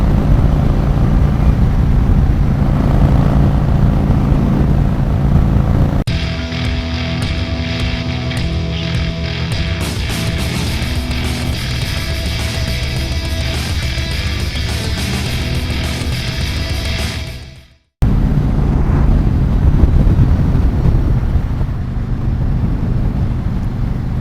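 A Yamaha VStar XVS 1100 cruiser motorcycle rides along a road past Mount Roland, its engine drone and wind rush loud and continuous, swelling in the middle section before a brief dropout, with no talk.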